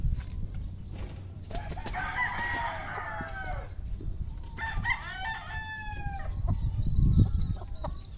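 Pet roosters crow in long drawn-out calls at moderate distance, with clucking and shorter crows in between over a steady outdoor background.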